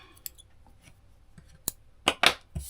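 Scissors snip through crochet yarn, two or three quick close cuts near the end after quiet handling rustles.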